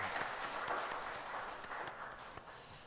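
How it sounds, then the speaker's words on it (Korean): A church congregation claps during Sunday worship, a soft, distant spread of applause that continues steadily for a few seconds. "하나님 앞에 영광의 박수 올려드리겠습니다"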